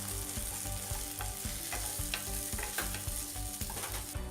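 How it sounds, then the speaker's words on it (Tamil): Onions for egg curry sizzle steadily in a hot pan, with repeated scraping and stirring clicks from a spatula throughout; no voices. "வெங்காயம் நல்லா வதங்கிருச்சு"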